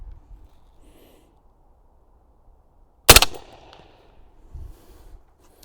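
A single loud, sharp gunshot from a Perun X16 rifle chambered in .300 Blackout firing a subsonic round, followed by a brief mechanical clatter and a fainter thump a moment later, otherwise quiet outdoors.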